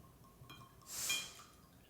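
Buffalo Trace whiskey poured into a glass in a quiet room: a short, soft splash and trickle rising and fading over about a second, with no voices.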